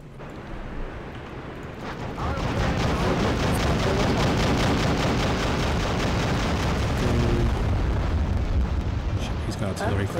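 Artillery fire in the real-time strategy game Act of Aggression rumbles as a dense, continuous barrage of booms and explosions, swelling after a quieter start and staying heavy and loud, with a voice talking over it.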